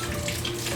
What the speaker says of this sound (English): Add in a little bit of water, not too much.